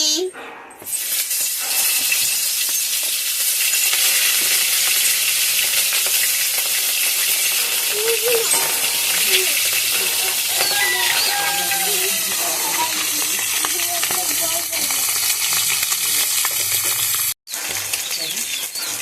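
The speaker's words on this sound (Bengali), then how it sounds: "এদিকে তেলটাও গরম হয়ে গেছে, এবার মাছগুলো ভেজে নিই।" Hilsa fish frying in hot oil, a loud continuous sizzle and crackle close up, steady throughout with a brief dropout near the end.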